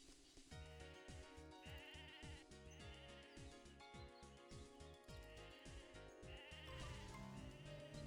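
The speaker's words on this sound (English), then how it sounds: "I can shear a sheep." A sheep bleating during shearing in the video game Mabinogi, a few drawn-out wavering bleats rising over a constant bed of looping game music.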